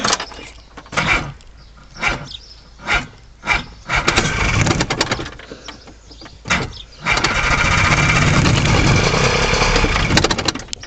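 A small outboard motor on a restored catfish boat cranks in several short, rhythmic bursts, then catches and settles into a continuous, loud, close-by running drone for the last few seconds, with no talking.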